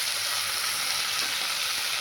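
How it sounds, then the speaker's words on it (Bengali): Tomatoes fry with ginger and spices for a Bengali rui fish kalia, making a constant, dense, close-up hiss with no talking. "টমেটো দিয়ে নাড়ছি ভালো করে"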